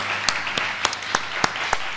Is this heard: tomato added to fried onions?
no